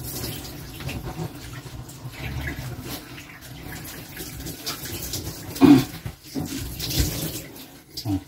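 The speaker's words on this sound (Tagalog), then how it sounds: "Ito na may timba tayo. Sasayan tayo ng tubig." Water poured from a bucket over American Bully puppies during a bath, a steady splashing wash running throughout with a brief louder slosh near the end.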